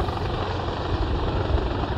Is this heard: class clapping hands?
no